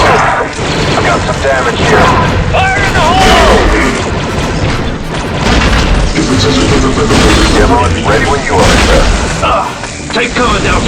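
A grenade blast booms in Star Wars: Republic Commando amid a dense, loud mix of combat effects, crashes and mechanical clatter, with voices talking over the action throughout.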